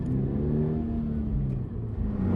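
A Toyota GR86 sports car's engine hums and revs steadily from inside the cabin while driving, a low, even drone with a brief dip.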